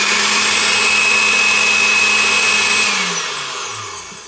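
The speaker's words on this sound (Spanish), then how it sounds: "Vamos a moverlo un poco en la licuadora" A kitchen blender grinds powdered sugar with a loud, steady motor whine that holds and then winds down toward the end, with no voices over it.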